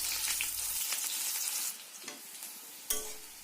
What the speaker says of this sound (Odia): ପିଆଜକୁ ଏବେ ଟିକେ ଲାଇଟ୍ ବ୍ରାଉନ୍ ହେବା ପର୍ଯ୍ୟନ୍ତ ଫ୍ରାଏ କରିନେବା।